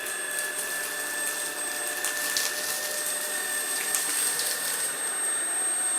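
Jimmy JV65 cordless stick vacuum fitted with its fluffy soft-roller brush head, running steadily up close with a constant high motor whine and airy suction hiss for the whole stretch, no voices.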